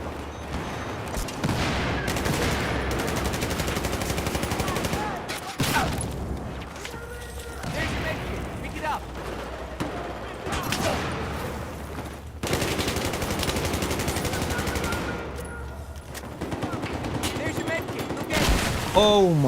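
Battlefield 4 online match with grenade blasts and gunfire, repeated heavy explosions and rattling automatic bursts in loud clusters, with someone talking over parts of the action.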